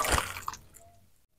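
Thick spicy pea curry, ghugni, is poured from a pan into a bowl: a short wet, squishing splash at the start, a single soft plop partway through, then quiet, heard up close with no talking.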